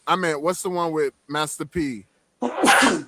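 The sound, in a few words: sneeze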